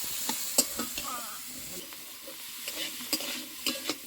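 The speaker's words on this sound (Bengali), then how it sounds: "আমি একটু নেড়ে একটু কষ্ট মতন করে নেবো" Cauliflower with salt, turmeric and chili powder sizzles softly in a pan while a utensil scrapes and taps against it in irregular stirring strokes.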